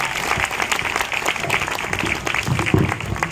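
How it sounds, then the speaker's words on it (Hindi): An audience applauds performers at a devotional stage drama about Krishna and Narada, loud continuous clapping from a crowd with a few louder individual claps standing out near the end. "तालियों से स्वागत किया हमारे सभी कलाकारों का"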